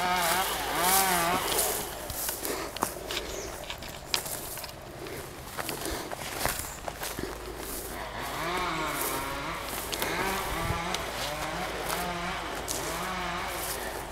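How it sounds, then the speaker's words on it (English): Chainsaws run after a wind storm, their engines droning and revving at a moderate distance, rising and falling continuously, with a few sharp knocks along the way. "Chainsaws are starting up."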